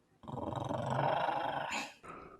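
A narrator imitates a dog's low, sustained growl: one rumbling, breathy snarl lasting about a second and a half, close and fairly loud, then a brief softer tail with no talking.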